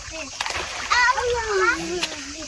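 A child jumps into a large garden pool filled with water, making a loud splash with splattering water, while children shout and talk excitedly around it.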